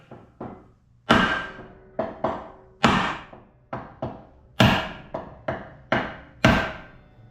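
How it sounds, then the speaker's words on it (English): Repeated sharp hammer blows strike a piece of wood driving a Miata rear suspension bushing into place, roughly a dozen knocks in an uneven rhythm, close and fairly loud with short ringing decays. "Just start hammering her in."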